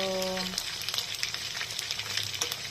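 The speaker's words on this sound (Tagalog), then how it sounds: "let us fry first the chicken" Battered chicken, coated in flour and egg, frying in a pan with a loud, steady sizzle and crackle that runs throughout, close up and with no talking.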